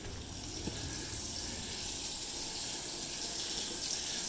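Water running through a house's plumbing into a septic tank, a steady, moderately faint rushing flow without pause.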